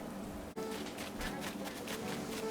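Steady rain patters softly and continuously in Animal Crossing: New Horizons, a faint even hiss with scattered drops and a brief dip partway through.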